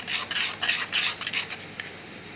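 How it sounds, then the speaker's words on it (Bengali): Utensil whisking batter for chicken tikki in a bowl, quick metallic clinks and scrapes in short bursts with brief pauses, close and fairly soft. "এরপর আমরা এই ব্যাটারটাকে একটু গুলে নেব"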